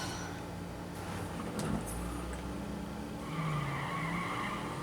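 A car in the racing video game The Crew skids along, its tires squealing over a steady engine drone for several seconds, moderately loud with no talking.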